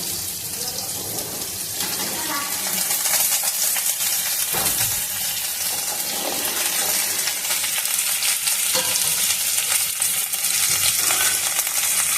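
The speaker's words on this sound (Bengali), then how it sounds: "ওই তেলেই আমি আবার কুমড়ো, বরবটি আর ডাঁটাটা একসঙ্গে ভেজে নেব।" Pumpkin, yardlong beans and drumstick pieces fry together in oil for a mixed vegetable labra, making a loud, dense, continuous sizzle with occasional clinks and stirring scrapes throughout.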